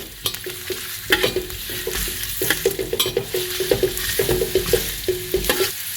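Red carrot and white watermelon rind are stir-fried in a hot pan, with a steady sizzle under quick, repeated spatula scrapes and taps that come close and clear.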